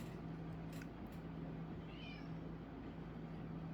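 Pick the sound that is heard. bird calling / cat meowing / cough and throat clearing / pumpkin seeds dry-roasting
cat meowing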